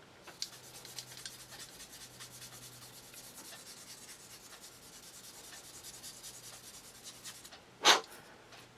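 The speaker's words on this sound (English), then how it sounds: "give it a good buff. This will lose a lot of the imperfections in the body, smoothing it all out." A 180-240 grit sand stick rubs back and forth over a plastic Airfix 1/48 Messerschmitt Bf109E model body, producing faint, close, rhythmic scratchy strokes, followed by one sharper louder scrape near the end.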